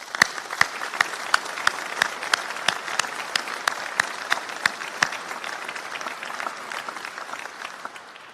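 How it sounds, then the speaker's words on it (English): Sparse, slow applause from a small graduation audience at Lincoln College, individual claps sharply separated and fairly steady in rhythm before thinning out toward the end, with no voices over it. "So please just join me in a round of applause."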